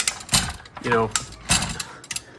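Automatic garage hose reel retracting a hose: close, fairly quiet ratcheting clicks and a short whirring wind, irregular mechanical rattles over a couple of seconds.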